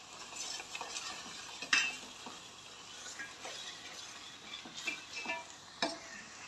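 Spice masala for fish sambar fries in a pan, a quiet steady sizzle with frequent spoon scrapes and a few light metallic clinks against the vessel, close by and without speech.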